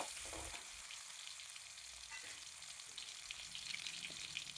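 Crushed ginger and garlic frying in oil in a pan, a faint, steady hissing sizzle with an occasional soft stir, quiet and continuous, no voices.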